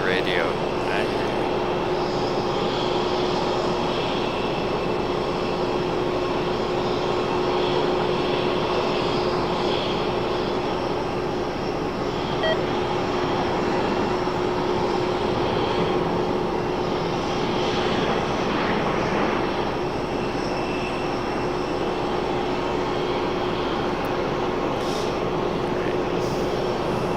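A steady, loud roar of a Boeing 777 jet airliner taking off from Raleigh-Durham International Airport, rumbling continuously from a distance, broadband and unchanging, with faint voices now and then underneath.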